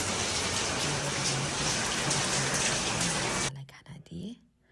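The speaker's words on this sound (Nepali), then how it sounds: "अनि पानी पनि पर्दियो।" Rain falls steadily as a dense close patter on a surface, then cuts off, leaving a few faint scattered sounds.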